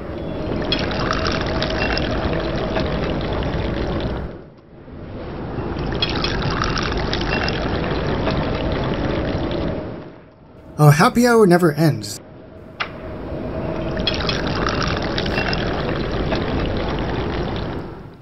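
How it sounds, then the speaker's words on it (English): Beer pours from a tap in The Simpsons: Tapped Out mobile game, a short gurgling, bubbling burst of about two seconds between longer stretches of talking and game chatter. "That's the pouring of beer"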